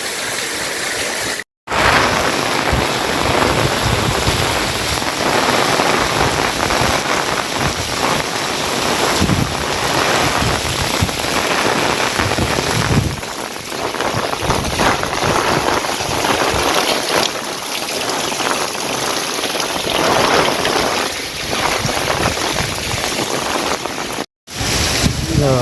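Heavy rain pours down in a steady, loud, broadband hiss that runs unbroken for the whole stretch, apart from two tiny dropouts near the start and end.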